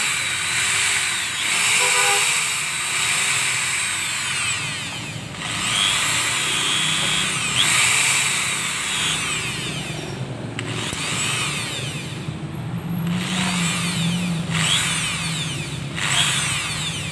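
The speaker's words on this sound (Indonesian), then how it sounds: "jadi kita bor satu-satu lubang ini." A power drill with a 2 mm bit bores holes one after another in a gas stove burner, its whine rising and falling in repeated bursts with brief pauses between holes, close and loud.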